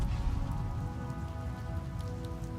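Steady rain falls through a forest, a dense continuous hiss of drops hitting leaves and ground at an even level with no voices.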